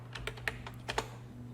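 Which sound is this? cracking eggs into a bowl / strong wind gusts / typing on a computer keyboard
typing on a computer keyboard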